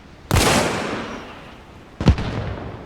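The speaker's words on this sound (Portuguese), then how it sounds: "E vou pegar o RPG 7V1, que é 40mm." In the video game Arma Reforger, an RPG-7V1 rocket launcher fires with a sharp blast that trails off. About two seconds later the rocket strikes with a second loud explosive crack.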